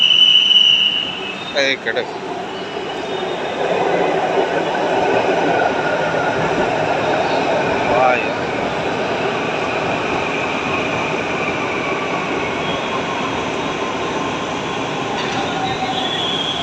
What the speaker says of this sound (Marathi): आणि समोरून मेट्रो ट्रेन येते